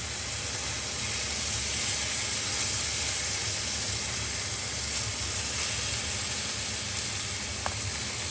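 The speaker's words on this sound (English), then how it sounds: "I'm only going to cook a little bit of this meat at a time just so I can get a good sear on it" Strips of steak searing in a hot pan for a pepper steak stir-fry, a steady dense sizzle and hiss holding level throughout with no pauses.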